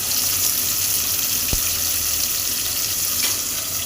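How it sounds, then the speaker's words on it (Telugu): Tomato, green chilli, onion and coriander fry in oil on a high flame, giving a loud, constant close sizzle with one brief knock partway through. "ఇది ఈ ఆయిల్లో టమాటా, పచ్చిమిర్చి, ఉల్లిగడ్డ, కొత్తిమీర గోల్డెన్ బ్రౌన్ కలర్లోకి వచ్చేంత వరకు"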